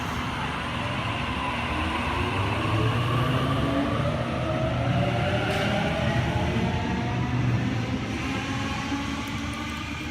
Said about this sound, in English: A31 now departing platform number 2